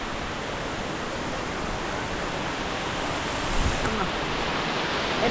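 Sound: waterfall

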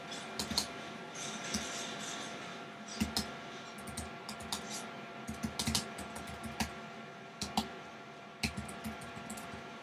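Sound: typing an email address on a Mac keyboard

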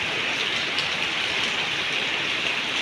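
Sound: rain falling

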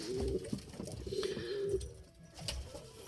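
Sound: pigeons cooing in a loft

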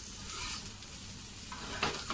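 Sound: taro root slices frying in a pan

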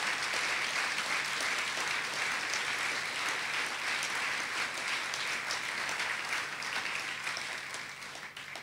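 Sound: congregation giving loud applause

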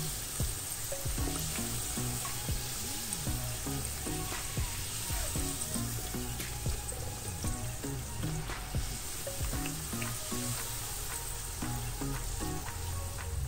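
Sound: pastel frying in oil

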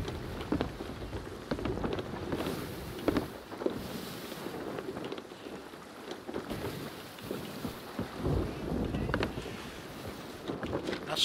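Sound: storm rain in the video game Sea of Thieves

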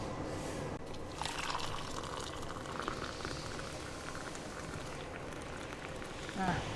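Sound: pouring concentrated car wash solution

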